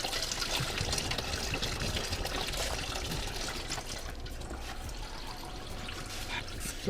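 Coolant drains steadily from a Porsche Boxster 986 radiator hose, a continuous close trickling and splashing of liquid that holds steady for several seconds, with no talk.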